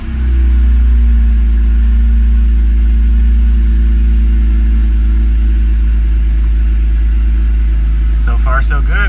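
A BMW E46 M3 fitted with a CSL airbox intake runs loud and close, holding a deep, steady engine drone with a few brief higher chirps near the end.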